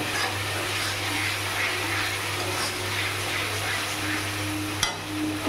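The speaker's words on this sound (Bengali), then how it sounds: "ধনের গুঁড়োটা দিয়ে একটু কষিয়ে নেব।" Coriander powder and spices frying in oil for a Bengali tangra fish curry give a steady, close, continuous sizzle that runs unbroken, with a single soft knock near the end.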